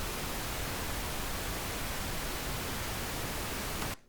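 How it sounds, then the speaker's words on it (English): Steady broadband pink noise test signal monitored through a Pro Tools track, holding at an even level with no variation before cutting off abruptly near the end; no voices. "now we can monitor the input and hear our pink noise"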